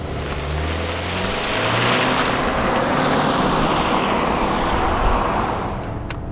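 Turbocharged 2.4-liter four-cylinder boxer engine of a refreshed 2023 Subaru Ascent Premier with CVT, revving hard toward about 5,100 rpm with traction control off, a steady loud drone held throughout with no talk.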